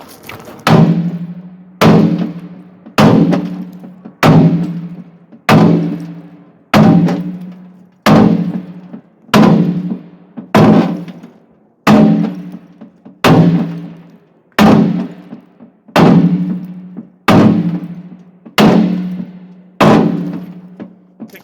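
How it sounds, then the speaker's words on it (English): A sledgehammer strikes a steel tractor bucket to straighten it, landing about sixteen loud, evenly spaced heavy blows, each followed by a short ringing decay, with no talking. "Technique there where I'm actually using the bounce to reload the sledgehammer."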